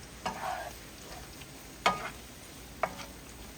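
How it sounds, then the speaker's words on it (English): Shrimp in a pan with brown butter and garlic give short sizzling bursts and scraping stirs, three distinct flare-ups spaced about a second apart over a quiet, faint hiss. "So we can just let these shrimp cook down"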